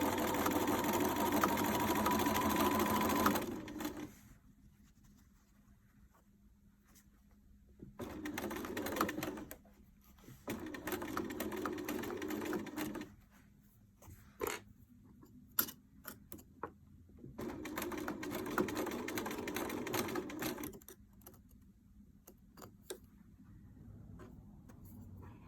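Home sewing machine stitching a fabric beach pouch at a quarter-inch seam, its motor whirring in several bursts of steady running separated by pauses, close and fairly loud with no talk.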